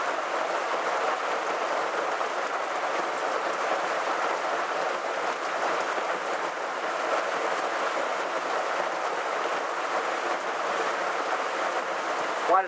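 Heavy rain pours down in a dense, unbroken hiss that holds steady throughout, loud and close, with no voices.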